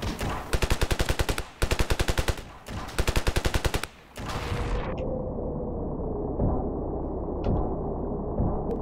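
Rapid automatic gunfire in the video game Ravenfield, two long loud bursts of evenly spaced shots, followed by a steady rumbling ambience with a few faint distant pops.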